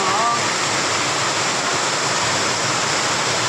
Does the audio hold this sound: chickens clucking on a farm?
no